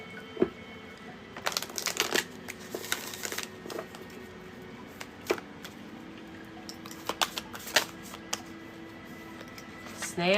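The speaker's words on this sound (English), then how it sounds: "One more shuffle." A tarot card deck being shuffled, with repeated crisp riffling and slapping bursts close by, broken by short pauses, over a quiet room background.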